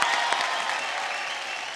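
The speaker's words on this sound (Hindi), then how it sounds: "एक बार जोरदार तालियां हो जाए" Studio audience applause on a televised singing competition show, a brisk burst of many hands clapping that starts strong and holds steady, slightly fading toward the end.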